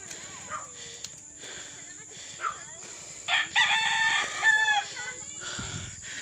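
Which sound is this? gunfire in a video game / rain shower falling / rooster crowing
rooster crowing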